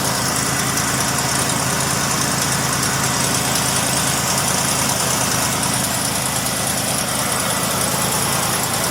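A Ford 460 cubic inch big block V8 idling, a dense, steady, loud drone that holds unchanged from start to finish with no voices over it.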